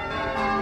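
Church bells ring at St Thomas Church in Lees, Oldham, UK, a steady sustained peal with rich overlapping tones, fairly loud and close, with no talking.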